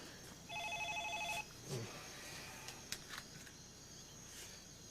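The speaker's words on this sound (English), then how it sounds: "that cellular phone of yours is a very busy little thing" A cellular phone rings in a quiet indoor room, giving one short electronic ring burst with steady paired tones, followed by faint rustling and soft handling noises.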